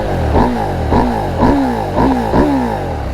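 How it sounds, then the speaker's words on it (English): A Husqvarna Norden 901 adventure motorcycle engine revs hard in five sharp, evenly spaced throttle blips, each rising and falling quickly over a steady loud idle, close and with no voices. "it sounds like a freaking race bike"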